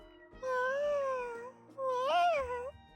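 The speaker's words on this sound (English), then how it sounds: "What are you meowing about, kitty cat?" A cat meows twice up close, each call long, clear and rising then falling, with a short pause between them and a quiet room around it.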